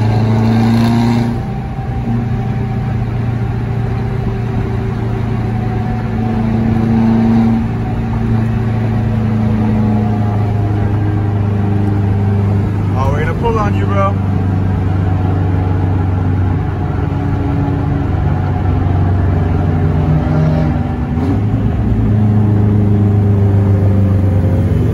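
A Subaru fitted with an external wastegate pulls hard during a night cruise. A loud, steady engine drone rises and falls across the run, with a brief fluttering burst midway and renewed acceleration toward the end.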